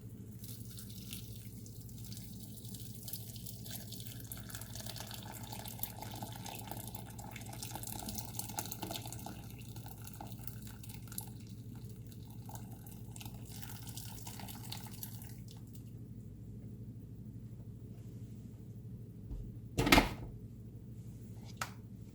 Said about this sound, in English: And then I'm going to go ahead and pour in my water